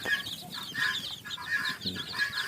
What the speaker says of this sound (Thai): ลูกไก่ที่แข็งแรงตัวเร็วแล้วก็เลี้ยงรอดนะครับ